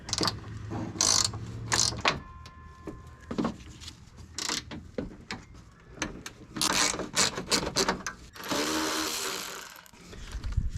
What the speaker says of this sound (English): loosen and remove these 4 bolts, and that's a 12mm socket